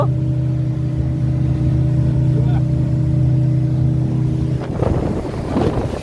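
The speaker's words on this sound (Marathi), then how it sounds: "हे ड्राइविंग चल रही है स्पीड बोट की देखो" A speedboat runs across the Badupatti dam reservoir near Munnar, its engine a loud, steady, close drone with wind buffeting, then churning water and turbulence swell in the last seconds.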